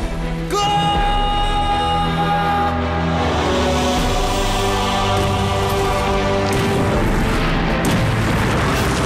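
An artillery shell explodes with a heavy, booming blast in a war battle scene, followed by a long rumbling, crackling tail of debris and reverberation that fills the rest of the moment, loud and close.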